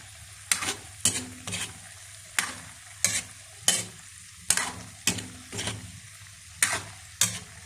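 A spoon stirs menudo made with pork and beans in a pan, the mixture nearly dry with little broth left. About a dozen evenly spaced scraping strokes stand out over a low, steady frying sizzle, with no talking.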